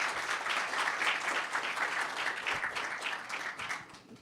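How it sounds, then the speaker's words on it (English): Sustained applause from a conference audience at an Ethereum event, dense steady clapping filling the room for about four seconds and tapering slightly at the end. "Another round of applause for Vitalik and everything he does"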